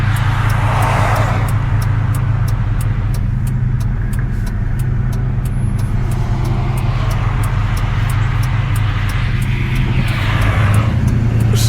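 Old-body-style Ford truck driving on the road, heard from inside the cab as a loud, constant engine and road drone with a small change in pitch near the end as it shifts.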